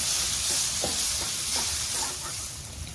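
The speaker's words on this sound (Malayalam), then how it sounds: "ഇനി ഇതിൻ്റെ പച്ചമണം മാറുന്നത് വരെ നമുക്ക് നന്നായി വഴറ്റിയെടുക്കാം." Ground masala paste sautés in a pan for Kerala chicken mappas, a steady sizzling hiss broken by a few soft stirring scrapes, close and fairly loud with no talking.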